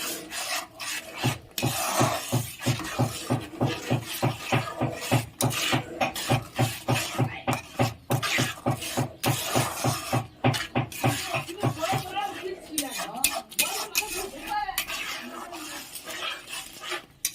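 Khoya kheer being sautéed in a pan, with a fast, regular rasping scrape of a spatula repeating steadily for about twelve seconds, then turning looser and more irregular.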